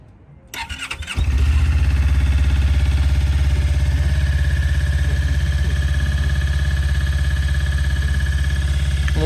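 A new 2023 Suzuki V-Strom 250 motorcycle engine starts after a brief mechanical rattle, then settles into a steady, loud, close idle with a low, even throb that runs for the rest of the clip.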